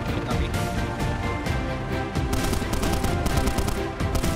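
Rapid bursts of gunfire crackle continuously, dense and loud, like an automatic weapon firing in a heavy exchange in the video game DayZ.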